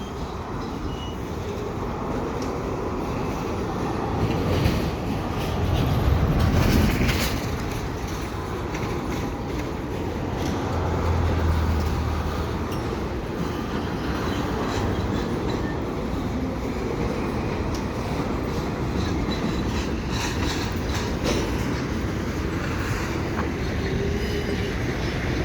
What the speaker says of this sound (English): There's the cars getting pushed back into the LMS.